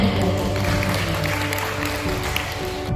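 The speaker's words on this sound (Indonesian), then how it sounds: "Tepuk tangan." Applause from an audience of parents at an indoor parenting class, a steady, dense clatter of many hands lasting the whole moment, moderately loud with a faint voice underneath.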